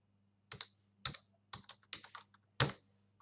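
Bursts of quick keystrokes on a computer keyboard tap out in short clusters, close and fairly quiet over a low steady hum.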